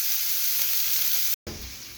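Meat sizzles steadily in a hot pan while taco fillings cook, a broad bright hiss with a short gap partway through, close and without talk.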